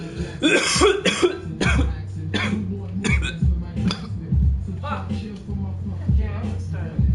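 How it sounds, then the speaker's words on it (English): A few short, throaty coughs with a burping quality burst out between loud vocal noises, close to the microphone over a steady low hum. "That's like a burp cough."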